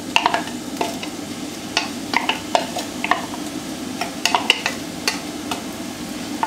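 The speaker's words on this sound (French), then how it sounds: "j'ai mis mon oignon et mon ail. Je vais commencer un petit peu à les faire dorer." Onion and garlic sizzle in olive oil in a heated cast-iron pot, a steady crackling fry broken by frequent clicks and scrapes of a utensil stirring, close and moderately loud, with no talking.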